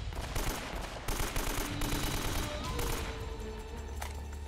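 Gunfire rattles through a firefight in the video game Uncharted: Drake's Fortune, with dense rapid bursts of automatic shots and scattered single cracks that continue loud and close for several seconds without talk.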